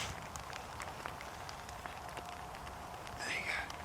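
Steady rain falls on a carp fishing lakeside during a long downpour, a dense even hiss with scattered sharp drop taps throughout, fairly faint and close, with no voices.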